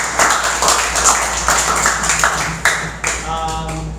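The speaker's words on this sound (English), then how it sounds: "Can we please give him a big round of applause for the" A small class applauds after a student report on shear and moment diagrams, with scattered, uneven claps from a few people close by, thinning toward the end.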